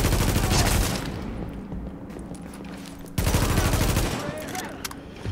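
Bursts of automatic gunfire in the video game The Division, a loud rapid volley, a lull with scattered shots, then a second heavy burst; a voice speaks faintly underneath.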